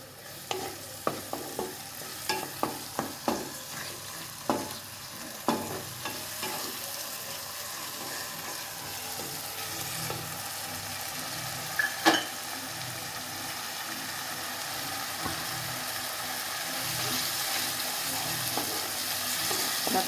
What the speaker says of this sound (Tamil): 2 செகண்ட் வந்து தக்காளி வந்து நல்லா வதங்கணுங்க